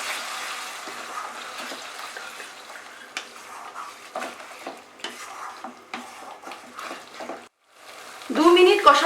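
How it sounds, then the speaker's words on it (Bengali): Chicken korma masala with sour yogurt is stirred and fried in a pan: a moderate sizzle with repeated spatula scrapes, a brief lull, then a voice speaking at the end. "টক দইটা দিয়ে আবার আমি এটাকে কষাবো।"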